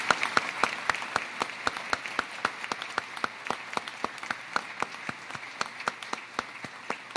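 Applause at a U.S. naval nuclear propulsion change of command ceremony comes as steady, evenly spaced claps, fairly soft and repeating at a brisk regular rhythm for several seconds, with no talking over it.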